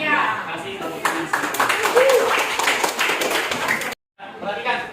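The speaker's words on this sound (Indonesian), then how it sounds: "Kasih tepuk tangan." Classroom pupils at a madrasah clap their hands together in a dense burst of applause lasting a few seconds, with voices and light chuckling mixed in before it suddenly stops.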